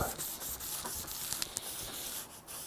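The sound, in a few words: sanding a guitar fretboard with 600 grit sandpaper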